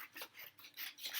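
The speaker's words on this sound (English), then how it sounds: "So you can take a pair of scissors and you can cut" Scissors snipping paper name cut-outs: a soft, close rasping of blades in repeated short strokes, faint and steady, with nobody speaking.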